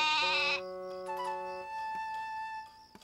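A single loud, wavering sheep bleat up close, followed by softer sustained tones and a faint tap near the end.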